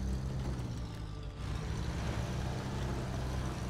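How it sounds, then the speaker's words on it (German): A truck engine in the snowy off-road driving game SnowRunner gives a steady, loud low rumble and drone, with no talking over it. "Dieser Wagen gibt manchmal irgendwie Geräusche von sich"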